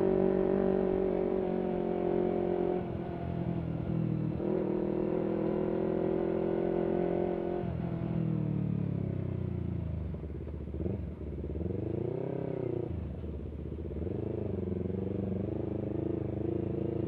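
A motorcycle climbing uphill at high RPM near 5000 sends out a loud, sustained engine drone heard from the rider's position, with the pitch slowly shifting as the throttle changes over seventeen seconds.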